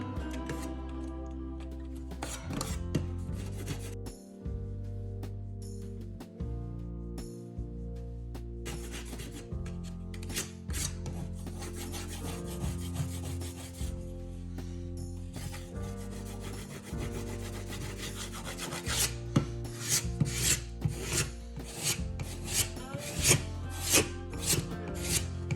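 A drywall patch is smoothed down by hand, knocking off ridges and excess built-up compound with steady, continuous rubbing and scraping strokes that grow slightly louder and busier toward the end, with no talking.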